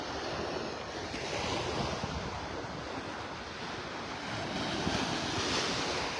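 Ocean surf washing onto a beach in North Naples, Florida in the early morning, a steady, continuous broadband roar of breaking waves with wind buffeting the microphone throughout.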